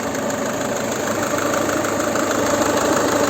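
A 2011 Peugeot 5008 2.0 HDi diesel engine idles steadily nearby, a constant low mechanical rumble with a slight knocking texture and no other sounds.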